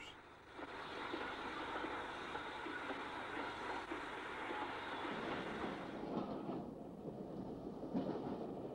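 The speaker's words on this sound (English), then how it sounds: "Doncaster's double-chimneyed 9F 92190 takes a freight north" A double-chimneyed BR 9F steam locomotive, number 92190, hauls a freight train north near Retford, a steady rumbling roar of engine and rolling wagons that holds on and shifts slightly toward the end.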